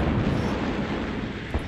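Artillery explosions in the Sudden Strike strategy game, a loud, rumbling wash of blasts that fills the short moment, with a sharper pop near the end.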